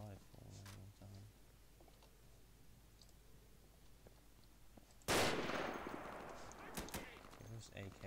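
AK rifle gunfire in a video game, a loud sudden burst of shots that cuts in after a stretch of quiet and decays into scattered follow-up shots.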